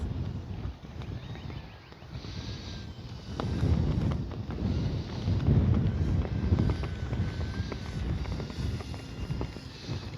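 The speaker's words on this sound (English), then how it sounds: "It is windy." Gusty wind buffets the microphone in a low, rumbling rush that swells and eases over several seconds, outdoors at a radio-controlled model airplane flight.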